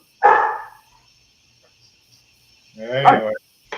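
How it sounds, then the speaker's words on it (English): Dogs bark at home, two separate loud barks a few seconds apart with quiet in between, close to the listener. "Every time the dogs bark"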